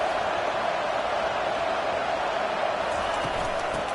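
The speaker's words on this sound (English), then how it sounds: "It is getting loud as this crowd tries to help its defense." Steady crowd roar from a stadium in the video game College Football 25, loud and sustained, with faint thumps underneath.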